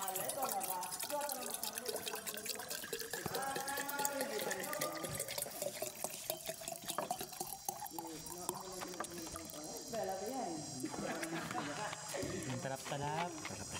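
Water is poured into a tumbler with splashing and trickling, running under nearly continuous talking.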